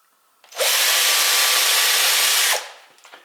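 A power drill bores into a wooden kitchen drawer during a soft-close runner upgrade: one close, steady whine lasting about two seconds that starts and stops abruptly.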